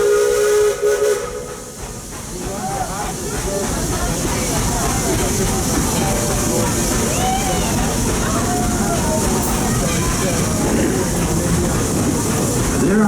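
The Walt Disney World Railroad steam train runs with a loud, steady hiss of steam and rhythmic chuffing, and a steam whistle sounds near the start.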